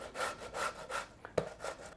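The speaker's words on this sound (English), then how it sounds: "lay it on the cheese grater and just grate away at the tomato" Halved tomatoes are rubbed back and forth across a cheese grater in a quick, steady rhythm of rasping strokes, close and fairly quiet, with no talking.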